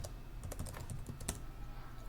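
Keys clatter on a computer keyboard as terminal commands are typed in Slackware, a short quick burst of soft clicks, fairly quiet and with no talking.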